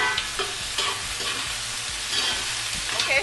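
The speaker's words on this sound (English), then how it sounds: "And I'm stir frying it for a little bit" Onion, garlic and scallion sizzle and crackle steadily in hot oil in a home kitchen pan, a dense continuous frying hiss with periodic stirring scrapes and clinks close by.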